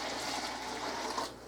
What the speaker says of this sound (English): Now I'm going to just put the water in.